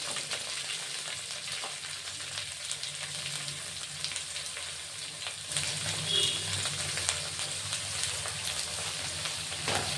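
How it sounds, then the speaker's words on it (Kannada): Chopped onions frying in oil for tomato thokku, a continuous crackling sizzle heard up close that grows slightly louder partway through as they are stirred. "ಈರುಳ್ಳಿ ಹಾಕೊಂಡಾದ್ಮೇಲೆ ಇದು ಚೆನ್ನಾಗಿ ಫ್ರೈ ಆಗಬೇಕು ಈರುಳ್ಳಿ"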